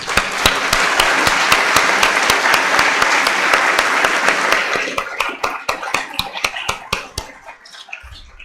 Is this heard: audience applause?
yes